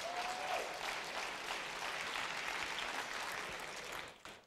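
Dense, sustained crowd applause from a hacker-conference audience thanking the speakers after a Wii U console hacking talk, a steady wash of many clapping hands that tapers off at the end.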